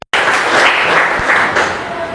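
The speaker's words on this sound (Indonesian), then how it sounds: "Kita kasih tepuk tangan." Classroom applause in a seventh-grade Islamic religious education lesson, a dense burst of many hands clapping together, starting abruptly and continuing steadily and loud to the end.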